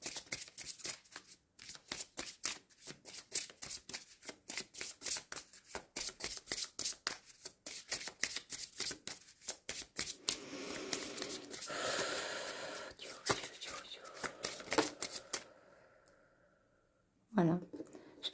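Tarot cards being shuffled by hand, a long run of quick papery riffles and slides at close range, with occasional speech mixed in before the shuffling stops near the end.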